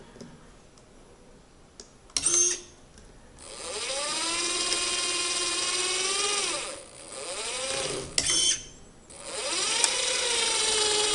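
An RC truck with realistic hydraulics runs its drivetrain with the front axle diff lock engaged, producing a whirring gear whine that spins up, holds steady, and drops away, with mechanical clicks between runs.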